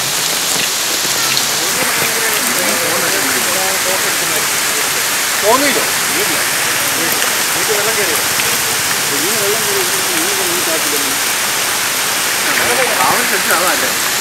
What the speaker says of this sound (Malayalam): അച്ചൻകോവിലാറ്റിൽ നിന്നുള്ള വെള്ളമാണ് ഇവിടെ കയറിക്കൊണ്ടിരിക്കുന്നത്.